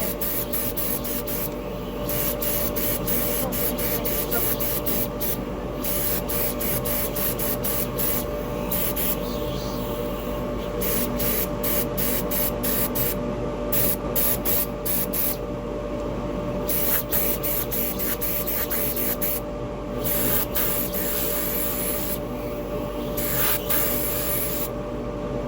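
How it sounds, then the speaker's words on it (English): A dust extractor runs in a woodturning workshop with a steady, loud, continuous broadband roar and hiss, unchanging throughout with no gaps. "I'll turn this dust extractor on."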